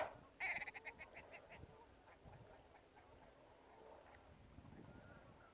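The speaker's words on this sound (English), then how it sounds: "So that's what all that noise and fuss is about." Red grouse on open Yorkshire moorland near reservoirs, calling while males fight over hens: a burst of rapid stuttering clucks near the start, then faint calls in the distance under wind.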